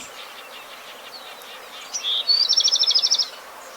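A Cassin's kingbird gives a short high note, then a rapid, evenly spaced trill of about a dozen chirps against quiet outdoor background.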